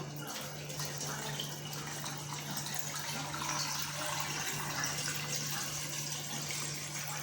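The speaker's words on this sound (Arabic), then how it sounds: "دابا غندير الماء هو طيب، غنخوي عليها" Water pours steadily into a cooking pot of potatoes, a continuous close gushing with a low steady hum beneath, no talk.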